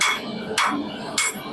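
Hand hammer striking hot metal while forging a bread knife without a press: three sharp, ringing blows about half a second apart, close and fairly loud, with no talking.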